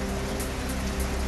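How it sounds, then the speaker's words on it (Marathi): Heavy rain falls in Murtizapur, Akola, as a dense, continuous hiss of downpour on surfaces, steady and loud from start to finish. "अकोल्यातील मूर्तिजापूरमध्ये मुसळधार पाऊस।"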